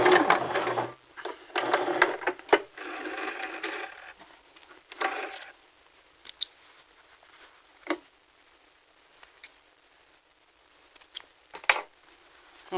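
A sewing machine runs in rapid bursts over the first few seconds as it stitches and backstitches a knit neck band, followed by scattered clicks and fabric handling.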